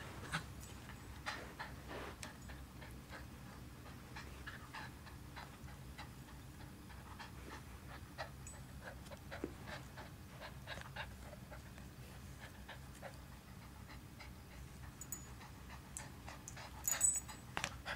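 Soft, quick panting from a cockapoo puppy close by, steady and quiet, with occasional faint ticks and a few louder sounds near the end.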